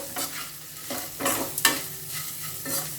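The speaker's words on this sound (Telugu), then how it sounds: "చూడండి, కలుపుతూ ఉంటే పొడి పొడిగా సౌండ్ వస్తుంది, క్రిస్పీగా." Crispy okra fry in a little oil being stirred in a pan with cilantro added: a close, soft sizzle broken by repeated dry scraping strokes of the spatula, with no voices.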